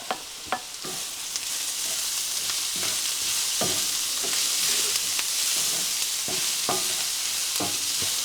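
Dried mushrooms are stirred into onions frying in a pan: a constant loud sizzle is broken by rhythmic scraping and stirring strokes all the way through.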